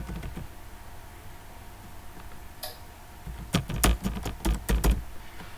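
Typing on a computer keyboard: a short run of sharp, close key clicks in the second half, after quiet background hum.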